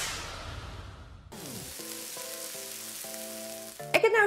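Frikkadelle meatball mixture dropped into a hot pan and frying, a steady bright sizzle with faint clinks of utensils, close and continuous with no talk.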